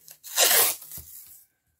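A strip of masking tape is torn off by hand in one quick, close rasping rip that fades out, followed by a soft tap and then silence.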